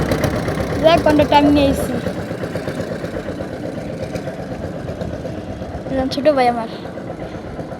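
A river launch's engine drones steadily on a river in Mymensingh, heard from a boat beneath near continuous conversation.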